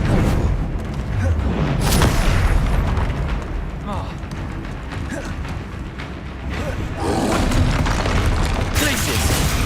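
Confringo fire spell explosions in Hogwarts Legacy on PS5, heavy rumbling booms and crackling blasts over dense combat noise, loud and sustained with surges around two seconds and again near the end, while a voice speaks throughout.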